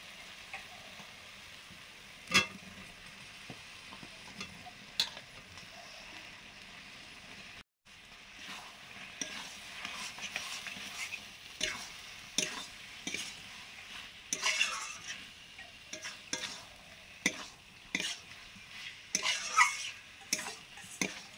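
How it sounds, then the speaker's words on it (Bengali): Soya chunks stirred into cooked spice masala in a pan for soya biryani: scraping spoon strokes and sharp metal clicks over a soft sizzle, brief pause near the start, then busier stirring to the end, no talk. "মশলাটা হয়ে গেছে, এবারে সয়াবিনটা দিয়ে দেবো"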